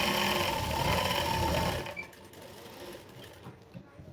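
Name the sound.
sewing machine stitching a blouse belt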